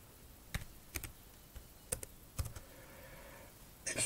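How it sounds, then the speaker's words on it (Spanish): Someone types a wifi password on a computer keyboard, producing scattered, soft individual key clicks at an uneven pace in a quiet room. "Así que vamos introduciendo la contraseña."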